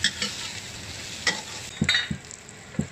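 Tofu is stir-fried in a pan, with a soft frying hiss under several sharp scrapes and knocks of a spatula against the pan, spaced irregularly and heard close up without speech.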